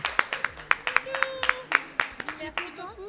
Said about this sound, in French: Un tonnerre d'applaudissements, s'il vous plaît, pour Gauthier qui est là ce soir.